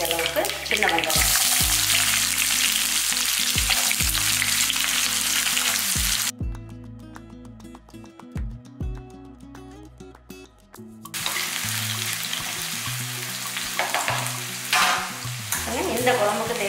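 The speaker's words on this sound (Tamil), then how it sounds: "கடுகு உளுந்தம் பருப்பு மட்டும் போட்டு தாளிச்சுக்கலாம்." Mustard seeds and urad dal tempering in hot oil for an egg kuzhambu: a loud, steady sizzle that drops away briefly midway under some tonal background sound, then returns at full strength.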